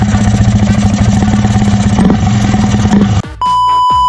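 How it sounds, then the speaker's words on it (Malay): A Yamaha motorcycle engine running at a steady idle close up, a loud, continuous, throbbing mid-pitched rumble that cuts off abruptly near the end before a steady tone takes over. "jom start motor jap"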